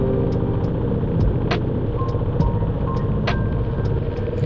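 A Tourino 250DX motorcycle engine with a modified exhaust idles nearby in a steady, deep rumble, with a few faint ticks and clicks over it and no talk.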